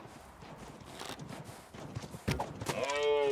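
Hoofbeats from an animal running in the video game The Long Dark give a quiet clip-clop patter that grows louder, followed by a sharp thump and a rising whinny-like cry at the end.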